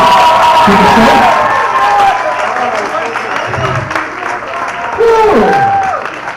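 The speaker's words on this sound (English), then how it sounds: "give them a great big round of applause, our volunteers" Audience at a dry grad hypnosis show applauds its volunteers: steady, dense clapping with some cheering runs throughout, loud and close, while voices talk over it.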